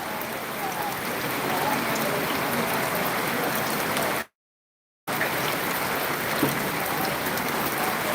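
Heavy unseasonal rain pours steadily over the open Boisar vegetable market in Palghar, a dense constant roar broken by one brief gap of silence before it resumes just as strongly.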